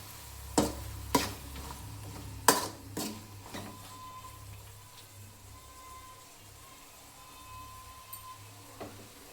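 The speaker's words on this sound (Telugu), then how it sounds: "అలాగే పచ్చెనగపప్పు కొద్దిగా యాడ్ చేయాలి. ఇలా యాడ్ చేసిన తర్వాత కలుపుకోవాలి." Chana dal being stirred in a frying pan, with several sharp scrapes and clatters of a spoon against the pan early on, then a steady low sizzle with occasional light knocks.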